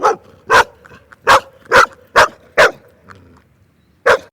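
A dog barks in loud, sharp bursts, about eight of them in irregular succession with short pauses between, close and clear with no talking over them.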